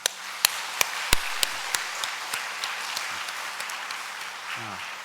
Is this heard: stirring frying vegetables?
no